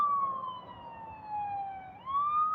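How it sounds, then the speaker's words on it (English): Police siren wailing along a city street, a steady tone that dips and then rises again, heard alone over low traffic rumble, moderately distant. "And these police, these sirens, I keep hearing that shit."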